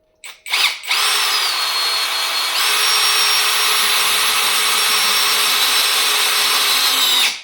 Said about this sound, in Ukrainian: Далі трошечки ускладнюємо задачу, ставимо в режим сверління, першу швидкість.